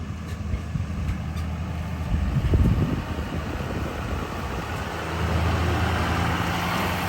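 A 2024 GMC 2500HD pickup drives along a road while towing, a steady low engine and road rumble swelling in the middle and again toward the end, with no talking.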